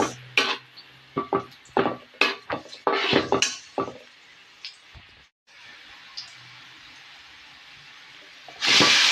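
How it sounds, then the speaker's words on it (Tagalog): Garlic and onion sautéing in a pan during breakfast cooking, heard as sharp clatters and scrapes of utensil on pan over a steady hiss, with a brief quiet gap and a louder sizzle burst at the end. "Ginigisa na po natin ang bawang at sibuyas."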